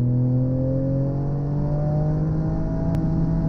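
A car laps the Donington circuit on a track day, its engine holding a loud, steady in-cabin drone with slowly rising harmonic tones as it accelerates past a mint-coloured Mazda MX-5.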